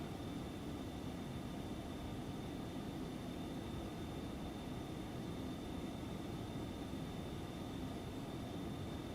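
Twin jet engines of an Aerobask Phenom 300 at climb thrust in X-Plane 11, a constant broadband roar with a faint steady whine, even and unbroken throughout.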